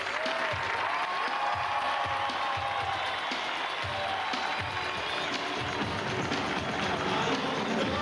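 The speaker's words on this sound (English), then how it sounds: "And give her a big round of applause." An audience at a large magic show breaks into sustained applause, a dense wash of clapping and crowd noise that stays steady and fairly distant throughout.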